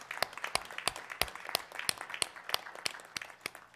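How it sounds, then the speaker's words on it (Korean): A church congregation claps to welcome a newly appointed minister at a Sunday service, sparse and fairly quiet, with distinct individual claps in an uneven rhythm. "우리가 기쁨으로 또 박수로 이렇게 환영하겠습니다"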